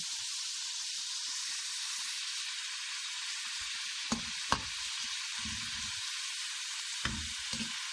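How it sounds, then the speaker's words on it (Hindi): Minced meat with peas and egg fries in mustard oil, giving a steady, close, bright sizzle throughout, broken by a few soft clunks of stirring near the end. "इसको थोड़ी देर फ्राई करके"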